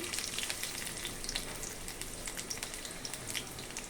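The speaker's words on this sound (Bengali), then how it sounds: "আমি তেলটা দিয়ে দিব পরিমাণ মতো পেঁয়াজ কুচি দিয়ে দিলাম" Chopped onions fry in hot oil in a pan while a bitter gourd dish is prepared, giving a soft, steady crackling sizzle that is close but fairly quiet and goes on unbroken, with no voices.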